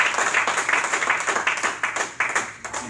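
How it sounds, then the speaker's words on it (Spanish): A congregation at an evening church service claps steadily and fairly loudly, with many overlapping hand claps in an uneven rhythm. "Dese un aplauso fuerte a usted esta noche."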